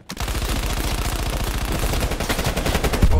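Rapid, steady automatic fire from an AK assault rifle in Call of Duty Black Ops Cold War, a loud continuous burst of evenly spaced shots lasting about three seconds.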